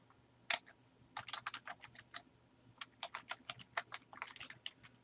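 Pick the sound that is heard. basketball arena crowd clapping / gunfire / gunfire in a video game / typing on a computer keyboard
typing on a computer keyboard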